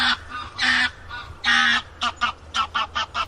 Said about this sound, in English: like that noisy goose flying by overhead